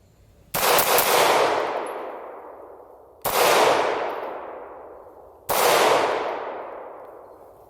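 Three shots from a Sig Sauer P229 pistol fired in double action, each a sharp, loud crack with a long ringing decay, spaced a couple of seconds apart, with no talking.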